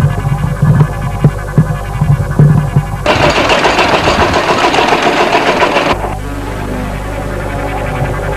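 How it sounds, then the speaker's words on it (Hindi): A tractor engine runs near a field at night, with a low rumbling throb and rhythmic knocking, briefly rising to a harsher, louder roar midway before settling back to a steady drone, with no talk. "वो क्या ट्रैक्टर की आवाज?"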